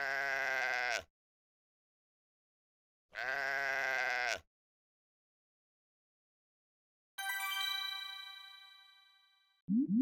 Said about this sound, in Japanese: 羊。